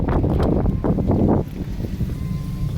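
Gusty wind buffets the microphone by the sea at a dike during rain, loud for a moment and then easing into a steadier, lower rush.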